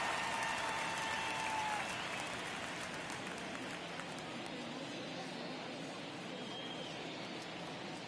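Baseball stadium crowd in the video game MLB The Show 23 during a tense ninth inning, a steady wash of cheering and murmur with brief whistles early on, continuous and moderately loud.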